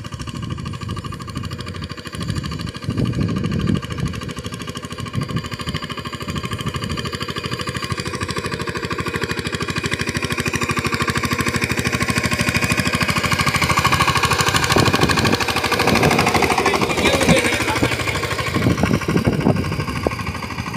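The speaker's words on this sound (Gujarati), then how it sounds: "ફૂલે ફૂલ જ હાંકતા હોય ટ્રેક્ટર" A farm tractor runs hard at full throttle in a muddy field, a loud continuous mechanical chug and rattle that builds slightly louder over twenty seconds, with no voices.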